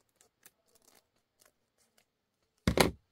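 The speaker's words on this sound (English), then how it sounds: "I'm just going to take my scissors and trim it away" A few faint soft ticks, then one sharp, close snip of scissors cutting through lace.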